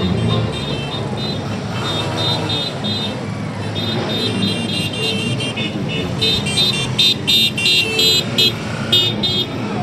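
Motorcycle club rides along a city avenue during a parade, a continuous mix of engine rumble and passing vehicles with repeated horn toots, loud and busy throughout.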